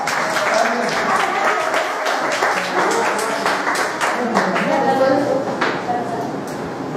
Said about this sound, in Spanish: aplauso para el compañero